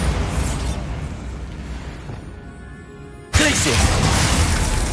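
A Bombarda spell explosion in Hogwarts Legacy: a loud sudden blast near the end cuts in after a fading rumble of earlier spell effects, with a voice speaking in the mix.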